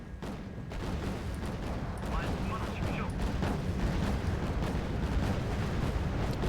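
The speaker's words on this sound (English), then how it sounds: "explosion in the ammo room" A ship blows up from an explosion in its ammo room during a naval battle in Wargame Red Dragon, a continuous heavy rumbling roar of blasts and crackling fire that stays loud throughout.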